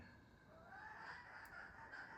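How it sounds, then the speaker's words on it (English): Chickens cluck and murmur close by, soft and continuous, with faint bird calls over a low background hiss. "I've got chickens very close to me"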